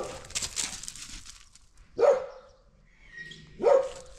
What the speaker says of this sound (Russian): Вон там собачка, да?